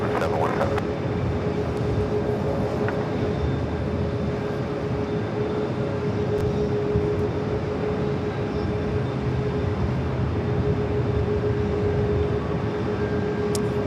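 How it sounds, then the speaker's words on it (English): Airbus A380 taxiing toward runway 4 left at JFK, a continuous broadband engine rumble with a steady whine running through it, fairly loud and constant, with faint voices underneath. "It's A380 heading to 4 left."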